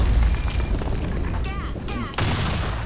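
A bomb blast in a competitive online shooter lands as a sharp boom about two seconds in, with a lingering rumble. Players chatter over game noise before and around it.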